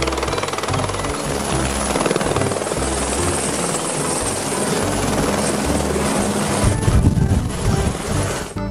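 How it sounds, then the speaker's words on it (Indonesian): A toy helicopter gives a continuous loud whirring rotor drone close by, with a rapid pulsing texture that swells toward the end and no voices over it. "lihat teman-teman, ada helikopter"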